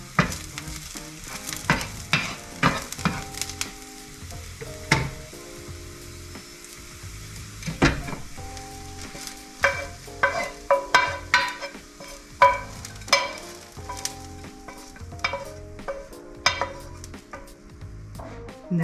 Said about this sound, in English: Now that we have our onions nicely sauteed and they're brown and they're crisp